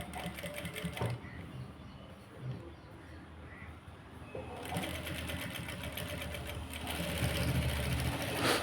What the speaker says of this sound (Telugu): ఇలా మనం స్టిచ్చింగ్ చేసేసుకోవాలి.